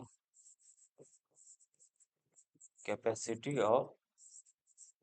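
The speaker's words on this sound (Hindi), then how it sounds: "तो सिंपल यहाँ पे लिख देते हैं" Chalk or marker taps and scratches on a board during a physics lecture on capacitors, quick light strokes in short bursts, followed by the lecturer speaking.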